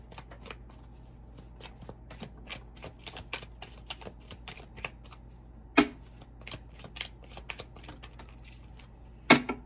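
Oracle cards being shuffled by hand in a quiet room: a rapid run of light papery flicks and riffles, with two sharper louder snaps of the deck standing out near the middle and end.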